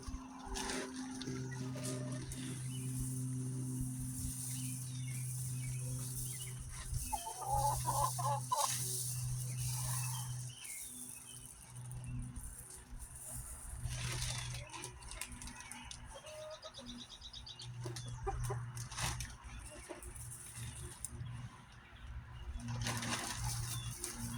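Chickens cluck and call in a muddy backyard chicken run near the coop, soft intermittent clucks over a steady low hum, with a brief flutter of movement partway through.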